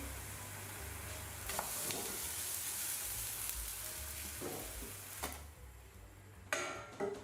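Soft, steady sizzling of crepe batter cooking in a small pan, fairly quiet, with a few light clicks and scrapes near the end.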